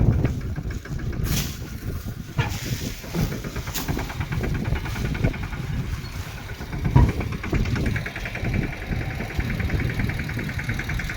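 A tractor with a loaded trolley idles in a steady, throbbing chug at moderate volume, with a few sharper knocks and clunks scattered through the running.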